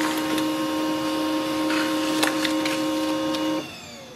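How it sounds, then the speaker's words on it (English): Pantum M6500 series laser printer running off a single page, a steady mechanical whir with tonal hum and a few clicks and clunks, ending abruptly as the motor stops near the end. "Click on the print icon. Instantly it sends the print command."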